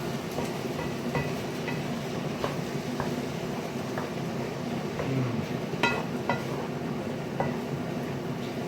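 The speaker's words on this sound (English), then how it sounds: "Stir all that in, look at that." Chopped tomatoes are stirred into a pot of Southern-style jambalaya, producing soft repeated scraping and clinks of a utensil against the pot over a low, steady background, with no talking.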